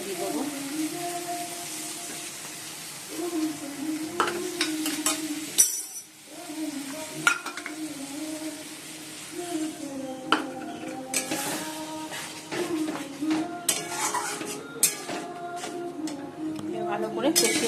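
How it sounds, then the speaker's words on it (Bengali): Fish curry with yogurt frying and being stirred in a pan, continuous sizzle with scraping spoon strokes and occasional clinks against the metal, under a voice talking throughout. "ভালো করে কষিয়ে নেবো।"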